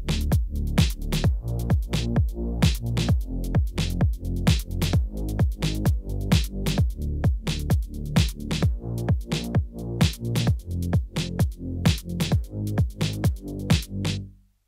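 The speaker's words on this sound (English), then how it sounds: "when the kick drum hits, that bass is pushed way out of the way, and then it swells back up, creating that pumping and breathing sound" Electronic track with a steady kick drum sidechain-compressing the bass, which ducks sharply on each hit and swells back, producing a rhythmic pumping and breathing pulse that runs loud and continuous before cutting off at the end.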